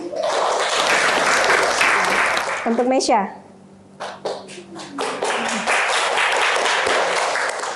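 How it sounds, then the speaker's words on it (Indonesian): Students in a classroom clap for a classmate, steady near applause that drops away briefly midway while a teacher speaks, then swells again. "Tepuk tangan dulu untuk Eni"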